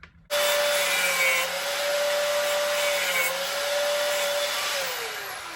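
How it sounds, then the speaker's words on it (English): A powerful angle grinder cuts steel in one long, loud, continuous whine with a steady high tone that dips slightly in pitch near the end, heard close up with no talking. "I forgot how powerful that grinder is."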